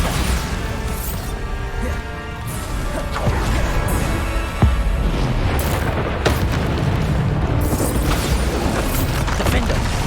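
Repeated Bombarda explosion spells going off in Hogwarts Legacy amid dense combat noise, with loud booms and bursts over a continuous roar of magical fighting.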